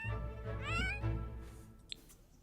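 A cat in The Sims 4 gives several clear meows in close succession. The meows are loud and close, with a small click near the end.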